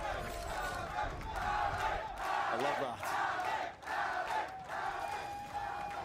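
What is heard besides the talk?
esports event crowd cheering during Valorant match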